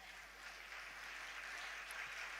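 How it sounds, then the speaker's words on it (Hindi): Faint, distant applause from an audience at a Jain religious discourse, a steady wash of many hands clapping throughout with no talk over it. "आप लोग अपने लिए एक बार सम्मान में तालियां बजाएं"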